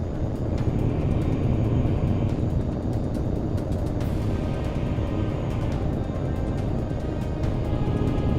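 Military jets fly in Tom Clancy's HAWX 2, a loud continuous broadband engine roar that holds steady and close throughout with faint tonal whine above it.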